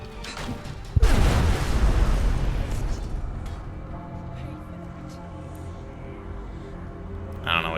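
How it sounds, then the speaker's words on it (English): A sudden loud boom from a trap going off in the video game Enderal, hitting hard and then rolling into a long rumbling decay over several seconds, with a faint sharper noise near the end. "Just an explosion."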